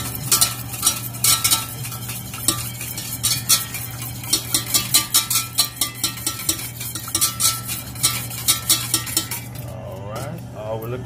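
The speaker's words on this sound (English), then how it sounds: "I'm gonna whisk it in." A whisk beats an egg into hollandaise sauce in a metal bowl, giving rapid rhythmic clinks and scrapes over a constant hum, loud and close, with the strokes growing sharper and more distinct toward the end.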